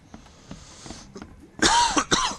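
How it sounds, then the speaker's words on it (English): Two harsh, loud coughs near the end, preceded by quieter throat noises and faint rustling. "Sorry for my coughing."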